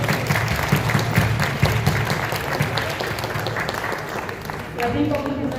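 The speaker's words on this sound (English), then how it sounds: "Another round of applause for our honorees." A crowd at an annual Phagwah (Holi) celebration in New York City gives a full, steady round of applause for honorees. The clapping thins near the end as a voice begins.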